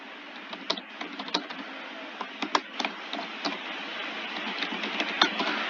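Light tapping on a computer keyboard during admission form entry, scattered irregular keystrokes over a steady background hum, fairly quiet.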